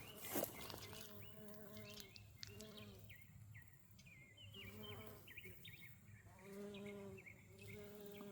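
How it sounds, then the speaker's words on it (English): Insects buzz around goldenrod flowers on a homestead, with several droning buzzes rising and falling in pitch as they fly near and away, fairly faint but continuous. "See if I can show you some of the different insects that are loving the goldenrod."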